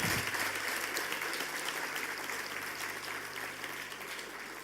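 Audience applause at a gathering on women, dowry and marriage: a sustained, dense patter of many hands clapping, strongest at the start and tapering slightly, with a faint low hum beneath.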